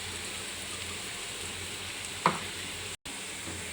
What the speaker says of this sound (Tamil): நல்லா வதக்கிட்டுருக்கோம்.